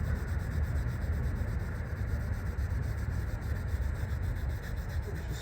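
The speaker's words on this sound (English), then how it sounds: "Just give it a good scrub." A brake hub flange on a 2004 Mini rear disc setup is scrubbed hard, producing a continuous close, coarse rubbing scour with fast back-and-forth strokes and no talk.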